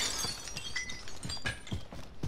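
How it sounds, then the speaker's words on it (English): Glass shattering in a Modern Warfare multiplayer match, heard as a run of sharp, crackling breaks and tinkling fragments with low thuds over about two seconds, fairly quiet in the game mix with no talk. "Is that you breaking glass?"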